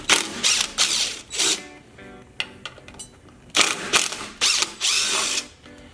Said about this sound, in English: That's going to require a T30 Torx bit that I have in my impact driver because it's a little bit quicker.